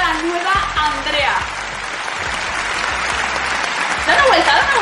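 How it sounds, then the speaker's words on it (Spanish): A studio audience claps loudly and continuously to greet Andrea's new look on a children's TV show, steady applause throughout with excited voices and shouts riding over it, swelling stronger toward the end. "Un aplauso muy fuerte para la nueva Andrea"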